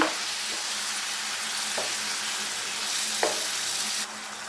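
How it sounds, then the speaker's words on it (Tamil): Yogurt being stirred into quail fry masala in a pan produces a constant loud hiss of frying. A few soft scraping strokes of stirring come through, and the sound drops slightly near the end. "தயிர் சேர்த்து நல்லா கலந்துக்கோங்க."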